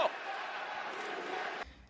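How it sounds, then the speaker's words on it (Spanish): Wrestling arena crowd in Greenville at SmackDown booing and chanting: a short, faint burst of massed voices in a steady roar that drops off abruptly near the end. "Abucheos y cánticos de tapeaste"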